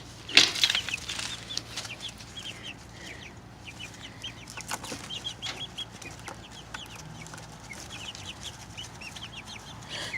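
Chickens in a winter coop flap their wings in a sudden loud burst, then keep clucking and murmuring softly nearby amid scattered rustling, with no talking.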